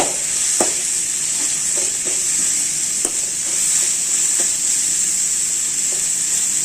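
Onions sauté in a pan for vegetable pasta, giving a constant close hiss and sizzle with intermittent scraping stir strokes, and no voices.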